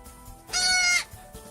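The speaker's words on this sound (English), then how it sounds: "I had an unexpected delivery from my goat, Juliet." A newborn goat kid, just delivered on a farm, gives one loud, drawn-out bleat lasting about half a second, close to the listener over quiet background.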